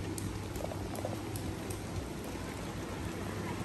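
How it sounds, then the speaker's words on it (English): Steady rain patters and hisses continuously on a campsite at Hayes State Park, Onsted, Michigan, a dense, even wash of droplets with no voices. "It's raining."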